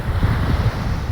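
Sea waves crash and wash steadily onto an Italian beach, a dense, close roar with rolling surges, mixed with gusty wind buffeting the microphone.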